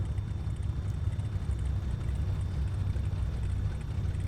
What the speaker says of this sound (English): we're going to go ahead and start the rear engine